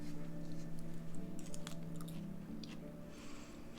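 Someone chews fresh, succulent New Zealand spinach leaves up close, with soft crunches and moist squishy bites repeating irregularly over a faint steady hum, with no talking.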